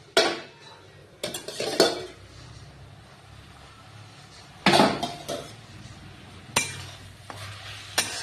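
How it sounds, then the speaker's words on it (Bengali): A lid comes off a pot of simmering radish greens with several loud metallic clanks and clatters in short bursts, separated by quieter stretches of soft bubbling. "এবার আমি ঢাকনাটা তুলে দেব।"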